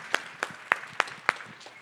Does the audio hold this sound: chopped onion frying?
no